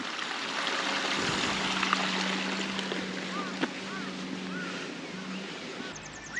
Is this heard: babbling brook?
yes